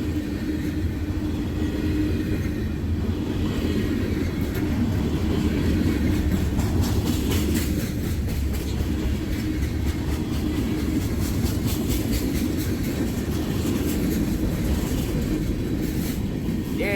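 A CSX freight train hauling petroleum tank cars rolls past at close range, with steady rumbling and repeated clickety-clack from the wheels over the rails, loud and unbroken.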